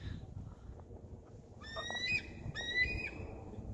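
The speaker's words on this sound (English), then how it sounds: "It's an eagle flying right above me." High, thin eagle calls repeat in two short bursts, piercing above a steady outdoor background rumble, in Jefferson County, Kentucky.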